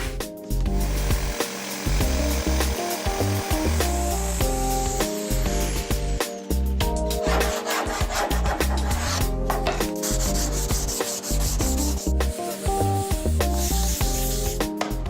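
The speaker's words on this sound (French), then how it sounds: "Ces formes, on va les découper à la scie sauteuse." Loud, continuous buzzing of a jigsaw cutting shapes from a wooden board outdoors, with a steady rasping drone that surges and dips slightly as the blade works through the board.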